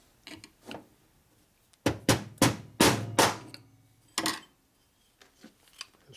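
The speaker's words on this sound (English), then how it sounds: "Using a screwdriver to beat it out." Sharp metal strikes of a screwdriver being hammered to drive a glued-in cylinder stud out of an S&S 113ci Evolution Harley engine, a scattered series of loud close blows, several grouped in quick succession, with quieter taps between.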